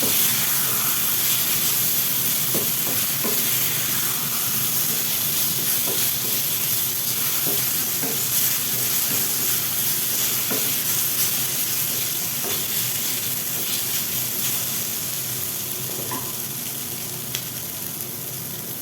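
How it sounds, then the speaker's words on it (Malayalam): Boiled egg noodles stir-fried in a hot pan give a loud, steady sizzle and hiss throughout, with occasional soft scrapes of the spatula mixing them, close and without any talk. "നമ്മൾ നേരത്തെ വേവിച്ച് മാറ്റി വെച്ചിട്ടുള്ള ഈ ഒരു നൂഡിൽസും കൂടെ ചേർത്ത് കൊടുക്കാം. ചേർത്ത് നന്നായിട്ടൊന്ന് മിക്സ് ചെയ്ത് കൊടുക്കാം."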